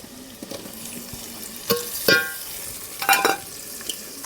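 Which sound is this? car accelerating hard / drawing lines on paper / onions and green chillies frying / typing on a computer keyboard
onions and green chillies frying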